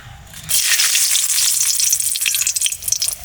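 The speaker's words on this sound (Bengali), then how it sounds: "এবার ফোড়ন দেব, তার জন্য নিয়ে নিয়েছি 2টো শুকনো লঙ্কা" Two dried red chillies and two bay leaves hit hot oil for tempering, giving a loud, bright, continuous sizzle and crackle up close, with a few sharper pops toward the end.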